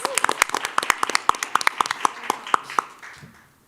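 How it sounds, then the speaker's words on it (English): A small group claps in a quick, uneven patter for a few seconds after a presentation at an innovation challenge, then the applause fades out. "Let's give them another round of applause."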